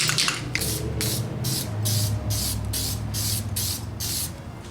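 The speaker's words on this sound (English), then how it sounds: "I'm going to be applying a little bit of resin spray onto this." Resin spray from an aerosol can coating a panel on a Fairlight CMI synthesizer under restoration: about nine even, loud hissing bursts in steady rhythm, with low hum underneath.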